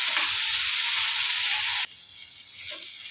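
Roasted peanuts and a garlic clove sautéed in a hot pan, a loud bright hiss that cuts off abruptly partway through and gives way to a softer, quieter crackle.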